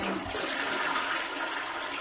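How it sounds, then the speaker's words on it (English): Toilet flushing nearby, a steady rushing wash of water that fills the whole stretch without pause and with no talking. "if I flush now"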